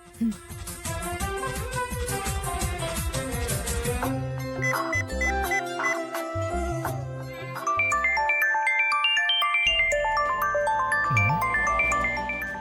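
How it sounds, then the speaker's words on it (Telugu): A bright electronic phone ringtone melody plays in a Telugu TV serial, chiming tones repeating over a steady musical backing, loud and close, with no talking. "ఏంటి సీత ఫోన్ చేస్తుంది?"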